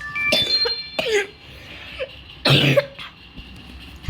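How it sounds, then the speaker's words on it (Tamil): A few sharp coughs close up, in short bursts spaced about a second or two apart, with quiet tones from the Ninja Mouse game in between. "சாரி ஃப்ரெண்ட்ஸ், எனக்கு இருமல் வந்துடுச்சு"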